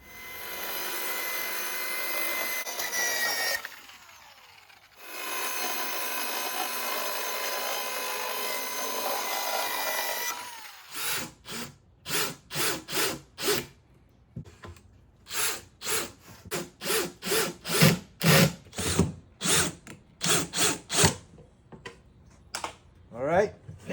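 Power saw cutting a wooden floor panel for a camper bed base with a storage drawer: a long continuous whine for about ten seconds with a brief pause, then a run of short, loud, rhythmic bursts of tool noise, with no talk.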